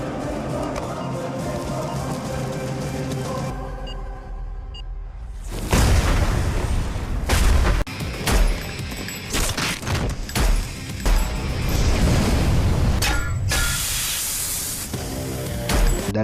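Police shoot terrorists in a gunfight scene from the Indian action film Suryavanshi. Dense film audio is followed by a run of sharp, loud shots and blasts that come in irregular bursts over a constant background score.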